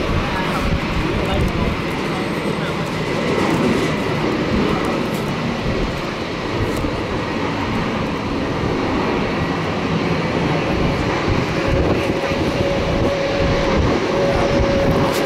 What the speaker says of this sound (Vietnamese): bây giờ nó hạ cánh xuống đường băng 25 phải sân bay Tân Sơn Nhất.